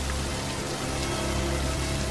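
Steady rain pours down in an even, continuous hiss and patter that stays close and fairly loud throughout, with no voices over it.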